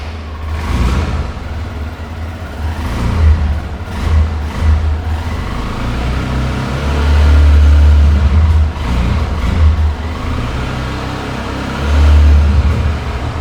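A Honda Splendor motorcycle engine runs close by at idle, a steady low putter with several short rises in revs that swell and settle back, with no voices over it.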